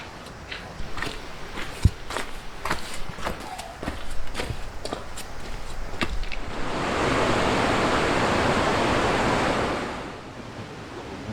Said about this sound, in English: This waterfall down here behind me is known as Gallany Falls.